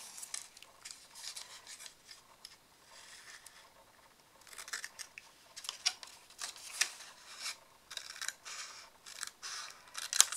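Scissors cut paper while a 3D Christmas card is made, with close, crisp snips coming in irregular bursts and no talking.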